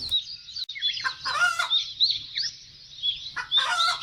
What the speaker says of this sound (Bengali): আজকে মনে হচ্ছে মুরগির বাচ্চাগুলো সব ডাকাডাকি শুরু করছে।